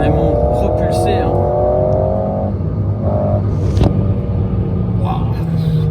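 An Alpine A110S sports car engine hums and rumbles steadily, rising in pitch as it accelerates, with a person talking over it throughout.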